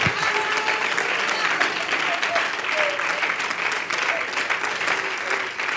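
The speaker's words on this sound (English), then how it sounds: "Somebody clap your hands to the Lord." Church congregation clapping hands together during a Sunday service, a steady dense wash of applause from many people filling the room at even loudness throughout.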